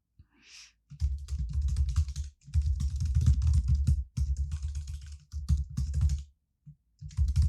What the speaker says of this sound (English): You're going to hear me type.